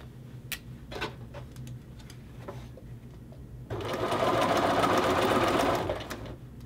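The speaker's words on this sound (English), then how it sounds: "I will go back again, put that hand behind, applying a little bit of pressure as I sew" A sewing machine stitches a men's shirt collar to its facing. A few soft ticks and handling sounds come first, then a steady close whir of stitching that runs for about two and a half seconds and stops.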